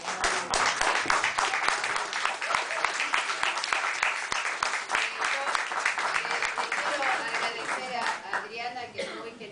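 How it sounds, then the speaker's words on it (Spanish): Audience applause at an arts café evening: a dense, steady burst of many hands clapping close by for close to ten seconds, with laughter and voices mixed in as it tapers off. "un aplauso para ella"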